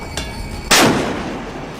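A single heavy blast from a 127 mm naval cannon on a Mogami-class frigate booms after a brief click, its rumble decaying over the following second.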